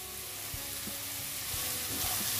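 Chopped onions fry in hot oil for a vegetable cutlet, giving a steady, close sizzle with faint stirring taps and no voices.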